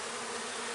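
Honeybees at a hive give off a dense, steady buzz, close and loud, that holds unbroken through a brief moment.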